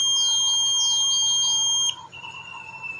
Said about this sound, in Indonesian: posisi tegak lurus dia bunyi. Nah, jadi fungsinya buat alarm ya